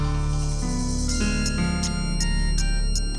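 A mobile phone ringtone plays a steady electronic melody of repeating tones, loud and close, with no talking over it.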